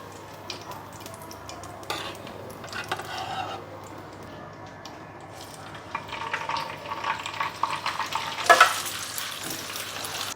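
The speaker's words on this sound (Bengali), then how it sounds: "পেঁয়াজ বেরেস্তার তেলটা করছি" Onions fry in hot oil for paneer malai, a steady quiet sizzle with occasional scraping and stirring clinks of a utensil against the pan, growing busier toward the end.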